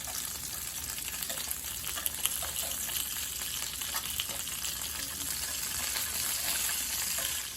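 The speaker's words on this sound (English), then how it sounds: "So when you fry these skewers," Rice cake and hotdog skewers fry in a frying pan, a steady close sizzle and crackle of hot oil running throughout with scattered small pops, no voices.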